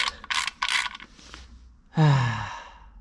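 A ratchet tightening a bolt back into a stripped oil pan on a 1.8T engine, a few quick clicking bursts followed by a longer grinding, creaking turn, close and fairly loud.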